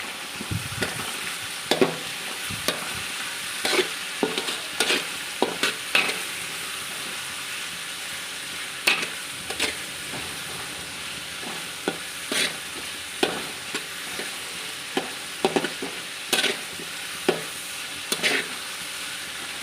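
Tomatoes frying in a pan on a gas stove, a steady soft sizzle broken by repeated clattering scrapes of a spoon stirring at irregular intervals, close up with no talk.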